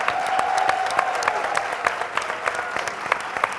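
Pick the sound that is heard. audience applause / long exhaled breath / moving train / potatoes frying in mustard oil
audience applause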